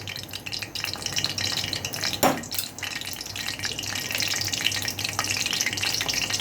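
Whole cumin seeds added to hot oil in a frying pan alongside bay leaves, crackling and sizzling steadily, with a brief louder spatter partway through and a constant hiss beneath.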